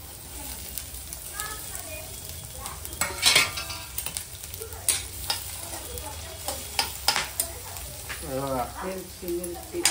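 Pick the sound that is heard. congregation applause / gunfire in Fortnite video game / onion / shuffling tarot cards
onion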